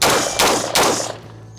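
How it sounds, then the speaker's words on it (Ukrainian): Three loud, sharp carbine gunshots fire in quick succession, evenly spaced, each leaving a short ringing decay before fading into quiet. "Серія пострілів, три постріли."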